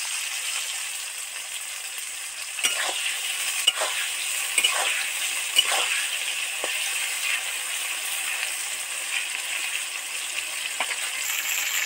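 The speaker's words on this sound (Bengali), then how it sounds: "সবজিটা তেলের মধ্যে উঠিয়ে দিয়েছি, এবার একটু নুন ছড়া দেবো, তবেই তাড়াতাড়ি সফট হয়ে ভাজা হবে।" Mixed vegetables fry in hot oil in a wok, a steady bright sizzle with a handful of sharp metallic scrapes and taps spaced through it.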